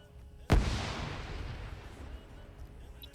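A grenade detonates in a video game match with one sharp, loud blast that rolls off into a long, fading rumble and debris hiss.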